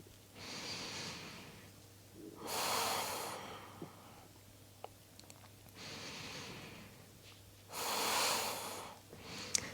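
Slow, deep breaths during a twisting vinyasa yoga flow: three long, airy inhale-exhale swells, close and fairly soft, separated by quieter pauses, with small clicks in between.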